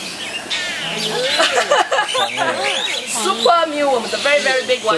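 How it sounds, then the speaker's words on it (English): Chirping bird calls ring out near a female southern ground hornbill being fed worms at a Singapore bird park, with a person talking over them throughout. "Okay, so this is a female southern ground hornbill."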